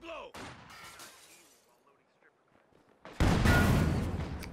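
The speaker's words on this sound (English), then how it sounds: "There goes that mortar." Mortar fire in the Company of Heroes 2 World War II strategy game: a loud, sustained blast of combat noise erupts partway through, following a quieter stretch with faint game sounds and someone commentator talking.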